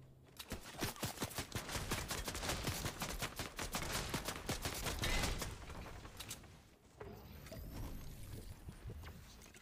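Drum gun fire in the Fortnite video game, a long run of rapid, dense shots that continues for several seconds, then a short lull and softer, scattered shots.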